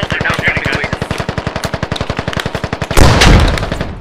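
Loud automatic gunfire from the military shooter game Squad rattles in a fast, even burst of rapid shots, ending in a heavier blast near the close.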